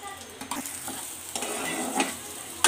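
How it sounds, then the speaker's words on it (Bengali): Whole spices, dried chillies, coriander, cumin, ginger and a spice mix fry in a pan on a low flame. A soft, steady sizzle carries faint stirring scrapes, close by and quiet, with no talking. "এগুলো আমি হালকা ভেজে নিব গ্যাসটা লো ফ্লেমে রেখে।"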